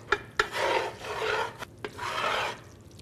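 A spoon scraping steadily around a pot of Cajun roux, close rasping strokes in rhythmic bursts separated by a few light knocks, no talking.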